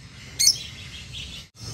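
African lovebirds in a paired set give a short burst of bright, high chirps close by, followed by softer twittering over low background hum, with a brief pause near the end.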